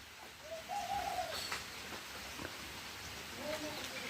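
Two short, hooting calls from an Asian koel a few seconds apart, moderately loud over a quiet outdoor background with faint hiss.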